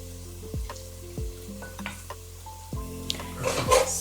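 Vegetables sizzling in a pan for fried rice seasoned with turmeric, a soft steady fry broken by several sharp clinks and scrapes of a spoon stirring against the pan, close and quiet with no talk.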